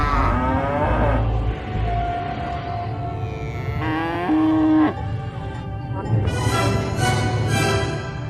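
Mundari cattle in South Sudan low and moo repeatedly amid a herd, several overlapping calls near and far over a constant busy background murmur of the camp.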